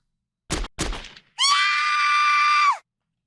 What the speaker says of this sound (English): I heard a loud pop sound in the distance, then a woman scream.